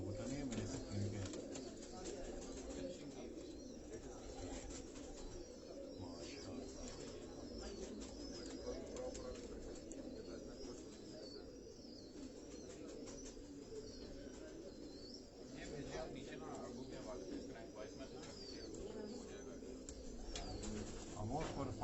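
Pigeons coo softly on a Karachi rooftop, their calls faint and continuous beneath a steady wash of outdoor background noise, with distant voices mixed in.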